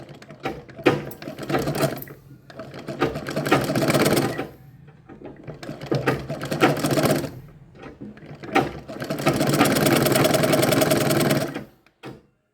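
A sewing machine stitches the neck lining of a blouse, its rapid mechanical whirr running in several long bursts separated by short pauses, close and steady with no talk over it.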